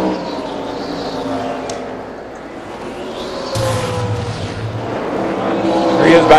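Stock cars roar around the track at the 2003 NASCAR Pontiac Excitement 400 during an early caution period, a steady engine drone swelling as cars pass, beneath a commentator's voice.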